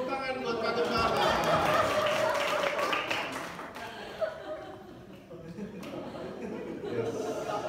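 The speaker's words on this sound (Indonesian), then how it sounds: "tepuk tangan buat Pak Gembala" Applause for the pastor at a church workers' evening devotion, a burst of clapping and light laughter for the first few seconds that fades beneath ongoing speech.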